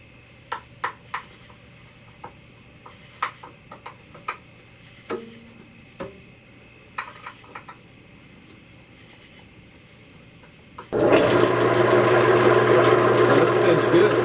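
Faint scattered ticks and clicks give way to a chainsaw that abruptly roars to life and runs loud and steady, bucking a twin oak log for woodturning bowls.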